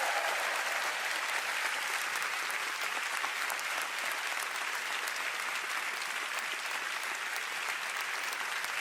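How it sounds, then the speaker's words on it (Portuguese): Sustained applause from a church congregation at City Harvest Church in Singapore, a dense, steady wash of many hands clapping at even loudness throughout with no voices standing out. "Posso ouvir sua salva de palmas adequada e o seu mais alto amém?"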